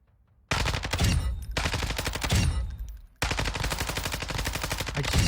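Suppressed automatic gunfire in Warzone 2 rattles in three rapid sustained bursts, close and loud, with short gaps between them.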